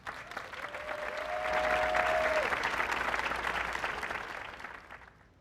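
Steady audience applause in a conference hall during a Webflow Conf 2025 opening keynote, swelling over the first two seconds, holding, then fading out, with a faint whistle-like tone briefly above the clapping.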